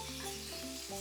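A raw paste of peanuts, coriander and garlic frying in a pan gives a steady, dense hiss of close sizzling that holds evenly throughout the brief moment, with faint tonal hum underneath.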